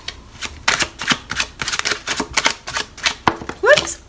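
A deck of tarot cards is shuffled by hand in quick, crisp riffling bursts, close up, with a voice chiming in briefly near the end.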